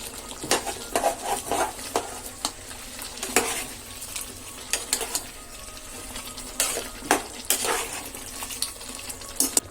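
Tomatoes sautéing in a pan for a home-style moong bean kulambu, a gentle sizzle punctuated by irregular spoon scrapes and knocks against the pan, close and moderately loud.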